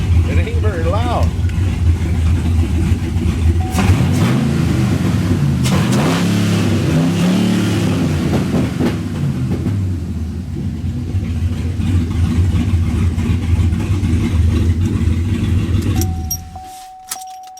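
A Chevrolet Caprice police car's LS V8 engine runs steadily and loudly, its low rumble shifting pitch as it revs a few times, then cuts off abruptly near the end.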